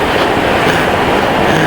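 A train rumbles loudly past a railway crossing on Java's north coast road, a continuous close roar of wheels and wagons with rhythmic clacking and no voices.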